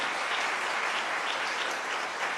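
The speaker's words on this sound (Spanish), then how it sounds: "Le damos un aplauso a todos en el nombre del Señor." Steady applause from a church congregation during a service, a dense wash of many hands clapping evenly throughout without a break, with no voices rising above it.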